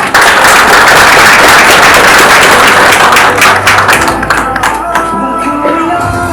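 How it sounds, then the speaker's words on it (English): A crowd at the launch of the Kenya Space Agency strategic plan applauds loudly and close, dense clapping at full strength before thinning toward the end as a few claps trail off. "A big round of applause for that."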